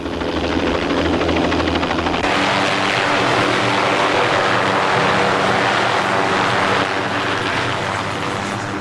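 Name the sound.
helicopter approaching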